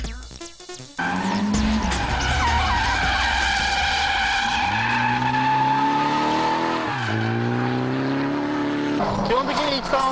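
Nissan 180SX drift car fitted with an S13 Silvia's transplanted engine, skidding at steep angles with long sustained tire squeal and wailing engine revs, loud and close, with a speaking voice over it.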